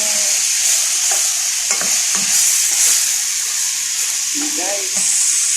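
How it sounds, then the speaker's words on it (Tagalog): Bitter gourd (ampalaya) frying in a pan with a steady, close sizzle and hiss, while a spatula scrapes and stirs in scattered strokes; no one speaks. "So ilalagay na natin yung ampalaya."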